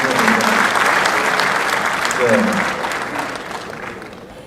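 Audience applause welcoming Dr. Amba at a gospel concert, dense steady clapping that is loud at first and slowly fades, with faint voices and a few louder claps in the mix.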